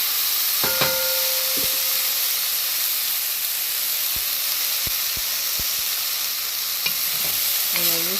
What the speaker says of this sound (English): I'm just going to have this bit sauteed.